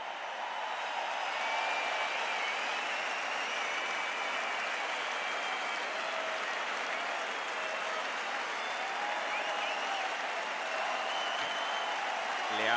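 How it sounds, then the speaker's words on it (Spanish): A stadium crowd at San Mamés in Bilbao applauds at a 2022 rock concert: a dense, steady roar of clapping and cheering that fills the whole stretch at an even level. "a que le aplauda todo el público de San Mamés"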